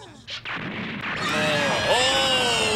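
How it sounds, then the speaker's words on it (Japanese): A nearby explosion erupts in an episode of the Mobile Suit Gundam anime, a sharp blast followed by a loud roaring rush and whistling, ringing debris tones that hold strong to the end. "あんな近くで爆発したらさ、そうなるわや"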